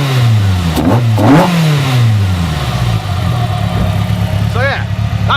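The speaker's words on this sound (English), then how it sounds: "In fact, I'll rev it so you can hear it." Ford Fusion ST fitted with individual throttle bodies revving up loudly and close, rising in pitch and falling back to idle, with a second shorter blip near the end.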